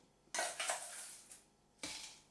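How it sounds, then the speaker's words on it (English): Ready-crushed ice tipped into a blender jar for a piña colada: a loud rattling clatter of ice pieces cascading in for about a second and a half, then a second shorter pour, with no talking. "I've got the ready crushed ice, just so it makes life a bit easier for the blender."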